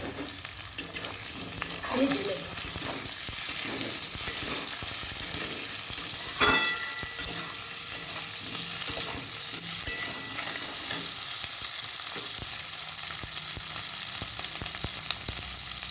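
Sliced onions and boiled new winter potatoes fry in a pan while a utensil stirs them, giving repeated scraping and clacking strokes over a constant close sizzle.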